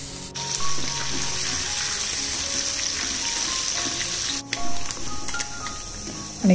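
Leftover food being fried crisp in a pan in a home kitchen, a steady close sizzle running throughout with a brief dip midway and no talking.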